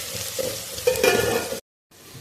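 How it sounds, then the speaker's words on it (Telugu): Onions fry in a pan for chicken curry, a close, steady sizzle with stirring scrapes for over a second and a half, then a brief silence before the sizzle returns softly. "ఆనియన్స్ మంచిగా ఫ్రై అవ్వాలి."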